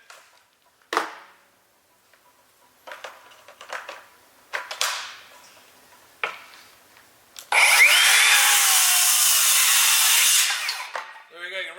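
A Metabo HPT 36V MultiVolt circular saw rips through wood in one loud, sustained high whine lasting about three seconds, preceded by scattered clicks and handling knocks and ending with the blade spinning down.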